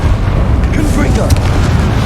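A Confringo fire spell blast in Hogwarts Legacy, a loud booming burst with deep low-end rumble amid continuous in-game combat noise, short and dense.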